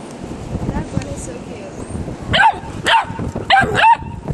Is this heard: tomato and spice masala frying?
no